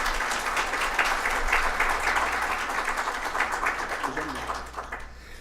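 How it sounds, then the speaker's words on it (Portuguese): An audience applauds to welcome a lawyer taking the stage at a talk on image rights on the internet, a steady wash of clapping that carries through and fades near the end, with faint voices underneath. "Uma salva de palmas, por gentileza."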